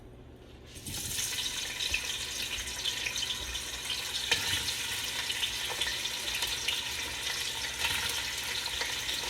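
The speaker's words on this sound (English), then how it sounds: "I'm going to fry them up a bit." Potatoes for Caldo Verde soup dropped into a hot pan, breaking into a steady, bright frying sizzle after a brief quiet start, with occasional stirring knocks, close and without speech.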